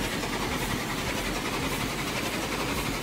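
A steam engine in the Roblox game The Steam Era runs at full throttle, a loud, steady, dense mechanical roar and rumble that stays constant with no pauses.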